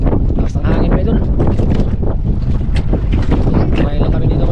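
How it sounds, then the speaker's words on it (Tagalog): Strong wind buffets the microphone in a constant loud roar, with people talking in Filipino underneath the gusts. "Lakas ng hangin pa idol."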